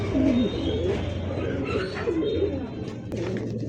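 Domestic pigeons at a breeder's farm, including black check birds with pink beaks, coo in repeated low throaty rolls over a steady background hum, close and fairly loud, with faint voices underneath.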